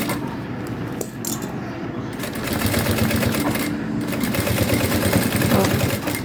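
A sewing machine runs along the seam of a crossbody bag with a fast, even mechanical whir and clatter, close and fairly loud, pausing briefly before stitching on continuously.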